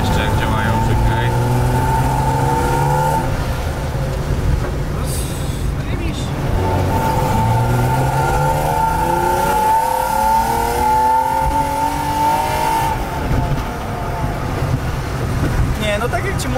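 Drift car engine revving and pulling while driving, a steady loud drone with rising and falling pitch sweeps, heard under people talking throughout.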